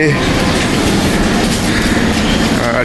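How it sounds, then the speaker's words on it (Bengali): A loud train arriving at a station near the Sundarbans rumbles steadily with rolling wheel clatter, close and continuous, filling the whole moment; no other sound stands out. "ট্রেন চলে এসছে"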